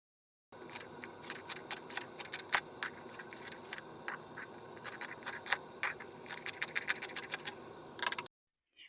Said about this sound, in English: And then I'm going to cut the fabric.